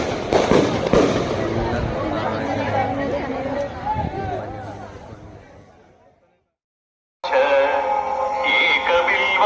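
Firecrackers and fireworks burst in dense, loud volleys at a night-long Veerabhadra Swamy fire-walking temple festival, with crowd chatter beneath, fading out before another loud burst of noise resumes.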